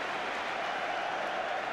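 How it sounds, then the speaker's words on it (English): A football crowd at a Leeds United match in the 1991/92 season cheers a strike on goal, a steady, even roar of voices and clapping throughout. "they were cheering the fact he had a strike on goal"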